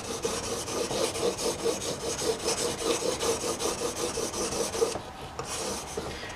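A steel chisel drawn across a fine final sharpening stone, a steady rhythmic rasping scrape of repeated strokes, close and fairly quiet, then stopping near the end.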